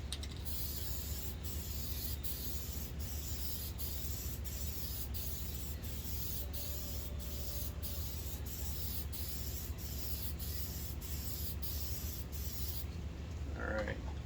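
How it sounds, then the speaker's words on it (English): Spray paint can laying down an even coat across a removable background, a steady hissing spray with faint mechanical clicks, fairly quiet and continuous. "make sure that you're spraying all the way evenly, all the way across"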